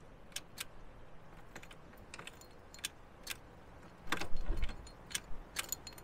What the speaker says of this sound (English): I can hear a relay kicking behind the seat